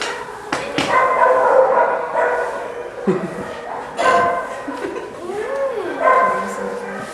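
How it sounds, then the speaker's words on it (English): Several dogs bark and yip in bursts nearby, mixed with whining and excited vocalizing, the barking sporadic rather than steady. "the dogs are quieting down"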